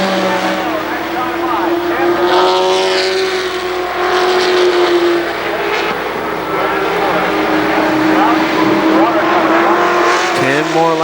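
Race cars roar around the KilKare Speedway oval in a 1995 race, a loud, sustained engine drone rising and falling as the pack passes, with an announcer calling the action over it.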